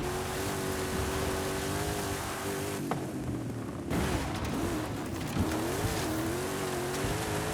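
A racing car in the Forza Horizon 5 video game runs a lap with a steady engine drone that rises and dips through shifts and corners, constant and loud with no talking.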